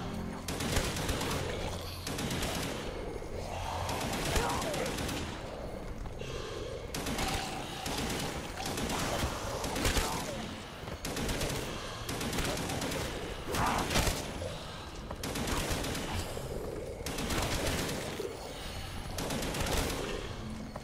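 Rapid bursts of gunfire from a gun in a modded Black Ops zombies game, with dense, repeated volleys running almost continuously at steady loudness across the whole stretch, under a busy game soundtrack.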